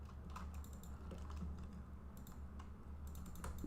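Computer mouse clicks while selecting geometry in SketchUp, a series of close, crisp clicks in an irregular rhythm over a low steady hum, with no talking.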